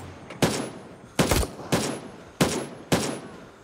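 Five sharp gunshot bursts crack out in the military survival shooter game Gray Zone Warfare, loud and close, spaced roughly half a second to a second apart with a ringing tail after each.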